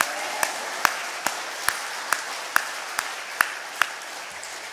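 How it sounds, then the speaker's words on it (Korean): A church congregation claps together at a Sunday morning service, a dense wash of applause punctuated by about ten strong, evenly spaced unison claps, moderately loud and steady throughout. "다시 한번 하나님께 영광의 박수 올려드립니다."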